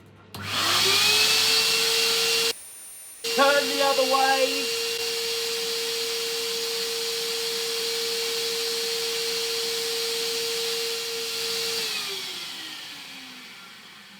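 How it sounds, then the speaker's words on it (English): A hoover drones steadily while drying a wet vinyl record, switching on with a rising whine, cutting out briefly, then running at an even pitch for about ten seconds before winding down. A voice speaks briefly over it. "I'm going to turn the hoover on"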